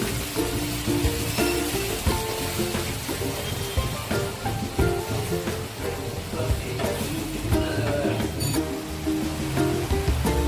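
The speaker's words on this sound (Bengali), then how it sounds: "এবার আমি কড়াই এটা দিয়ে দিচ্ছি।" Coriander, tomato and green chilli paste fries in a kadai for a chana curry, giving a dense, steady sizzle and crackle with scattered clinks and stirring scrapes throughout, loud and close.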